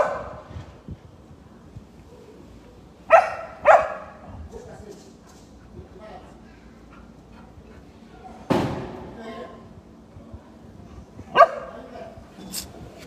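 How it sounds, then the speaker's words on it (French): A dog barks in sharp, separate bursts, several spaced apart at middling distance, while people talk indoors in French around it. "Le chien est là-bas"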